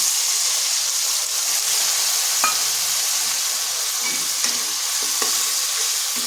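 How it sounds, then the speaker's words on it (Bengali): Spice paste for a Bengali rohu fish curry with aubergine and potato frying in a pan, a loud continuous sizzle and hiss with a few sharp clinks of stirring, close up. "এটা মশলাটার সাথে ভালো করে একটু কষিয়ে নিচ্ছি।"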